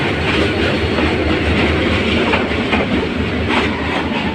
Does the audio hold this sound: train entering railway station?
yes